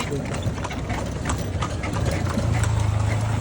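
Horse hooves clip-clop steadily while pulling a kalesa carriage on a street in Ilocos Sur, with rolling wheel and mechanical rattle noise throughout and voices talking over it.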